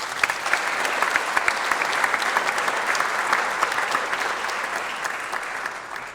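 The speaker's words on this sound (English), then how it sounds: "Give them another round of applause." Dense, steady audience applause fills a room at a chamber of commerce small business awards event, many hands clapping together at an even level for about six seconds before tapering slightly at the end.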